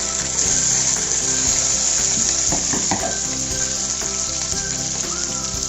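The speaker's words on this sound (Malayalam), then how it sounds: "അതൊന്ന് ഈ ഓയിലിലിട്ടിട്ട് ഒന്ന് സോട്ടേ ചെയ്തെടുക്കാം." Capsicum vegetables sautéing in hot oil in a pan give a continuous loud sizzle, with a few scrapes and clinks of stirring in the middle, close and without speech.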